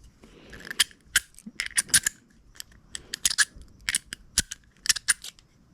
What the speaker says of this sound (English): It does sound kinda grindy, but at the same time, when it snaps on,